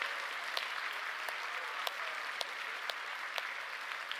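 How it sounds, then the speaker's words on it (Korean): A church congregation claps together for its young people at a Friday night worship service. The applause is steady and dense and runs the whole length, with a few sharper claps standing out at regular moments. "우리 청년들을 위해서 박수 한번 치겠습니다"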